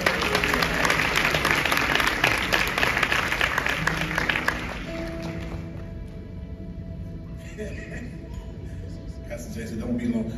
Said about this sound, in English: So without further ado, let's honor and give a big round of applause to Keith Rock.